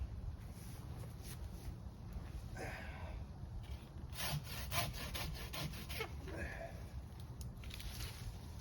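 A pruning saw cuts through a crossing tree branch outdoors, with rough rasping strokes in an uneven rhythm under light wind noise.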